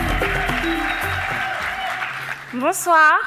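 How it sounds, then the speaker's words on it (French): Audience applause at the MBOA Paris 2024 Cameroonian diaspora business event, a steady layer of clapping mixed with a voice over the crowd, ending in a loud vocal swell. "On a applaudit encore bien fort pour elle. Applaudissez, applaudissez"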